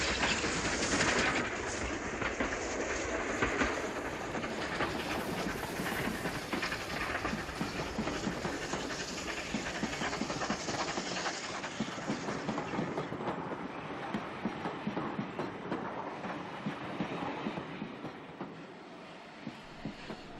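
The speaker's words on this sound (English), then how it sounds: "the crowds look on as the pannier tank pulls forward to run round its train" Pannier tank steam locomotive hauling its train at Sidmouth station, a steady rumble with rail clatter throughout, fading slightly toward the end, with faint bird calls and no talk.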